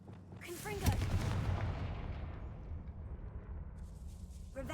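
A Confringo spell explosion in Hogwarts Legacy sounds as a sharp, loud boom that rolls into a long rumbling decay fading over several seconds, with a faint crackle near the end.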